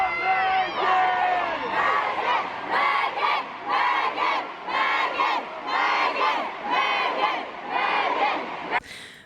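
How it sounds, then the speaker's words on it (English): Concert crowd at a show at Pier 17 and Central Park, yelling and chanting together in loud, repeated rhythmic bursts of massed voices over about nine seconds, close and continuous. "At both shows, the crowd kept yelling, Megan Fox, Megan Fox."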